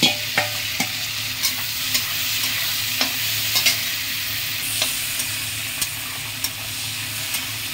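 Prawns fry and sizzle loudly in a pan for a helencha greens curry, with a steady hiss and regular scraping clicks from a spatula stirring them.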